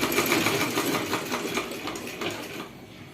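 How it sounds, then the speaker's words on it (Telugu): Sewing machine stitching gathered frills onto the lining of a silk petticoat cut from a saree, a steady fast mechanical whir running close and continuous, easing slightly toward the end. "లైనింగ్ని ఇలా ఫ్రిల్స్ పెట్టుకుంటూ కుట్టాలి"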